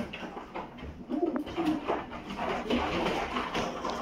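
Breeding pigeons coo softly in a loft, a few low murmuring calls rising over a steady background hum.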